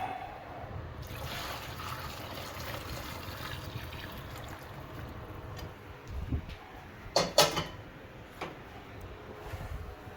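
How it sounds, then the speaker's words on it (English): Not-quite-boiling water being poured from a kettle into a container already holding warm tap water, a steady close trickle and splash that ends in a few louder clunks. "I'm going to go ahead and pour that in."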